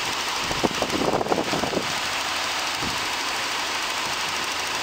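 A 2006 Cadillac STS 3.6-litre longitudinal V6 engine with variable valve timing idles quietly and steadily, a low even hum with a few brief mechanical clicks near the start.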